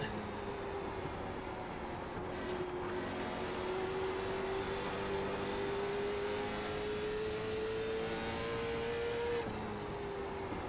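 Late model stock car engine in the iRacing sim racing game, a steady drone that slowly climbs in pitch along a straight and lifts off near the end, with no talking.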